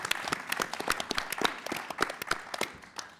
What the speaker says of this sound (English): Let's have a big round of applause together for all of our amazing competitors.